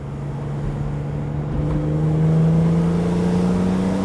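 A BMW Z4 M Roadster's S54 engine revs hard through a canyon, a loud, close, continuous howl that climbs steadily in pitch and volume.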